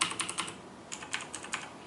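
Someone types on a Razer BlackWidow 2013 mechanical keyboard, sending quick bursts of crisp key clicks in two short runs separated by a brief pause, close and fairly quiet with no talking.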